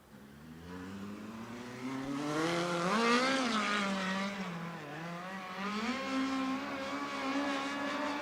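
Race cars rolling out at Ventura Raceway for USAC Turkey Night, several engines droning and revving together, rising and falling in pitch, moderately close and continuous with no talk over them.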